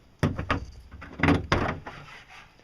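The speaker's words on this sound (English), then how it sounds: "Okay, if we open this hatch here" Hatch on an adventure build being opened, a few hollow knocks and a sliding scrape followed by softer rattling close by, with no talk.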